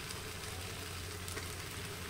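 Beef brisket sizzles in a pot on a steady, loud, unbroken fry hiss with a low rumble beneath it, and no voices.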